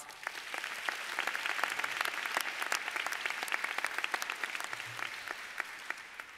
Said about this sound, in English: I would ask you to give them another round of applause.